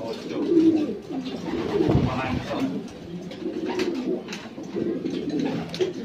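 Racing pigeons coo softly in a low, continuous murmur at their port arrival point after a fun race, with people talking nearby over the birds.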